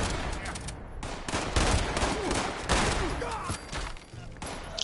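Automated turrets firing in Fallout 76, a dense, loud barrage of rapid gunshots that keeps going throughout, with game noise layered over it.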